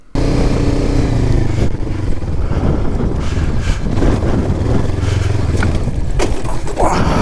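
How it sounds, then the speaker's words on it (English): A Honda CB500X Rally Raid motorcycle runs while its engine guard scrapes steadily along the ground in a long grinding slide, with heavy wind rumble throughout. "engine guard sliding 1 foot"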